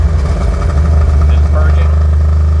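A heavily modified 1000bhp BMW M5 running on methanol idles with a deep, steady low rumble throughout, loud and close, with no clear revs.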